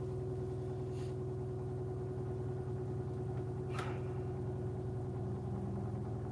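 An LG Y500 washing machine on a mixed fabrics 60 intensive program spins with a steady, faint, low hum that holds without change.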